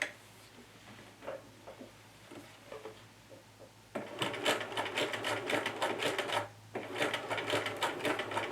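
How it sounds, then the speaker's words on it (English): A sewing machine sews a small zigzag stitch on an Edwardian camisole, starting with faint, sparse clicks, then breaking into two longer runs of rapid, close, rattling stitching separated by a brief pause. "I'm going to stitch this down with a zigzag stitch"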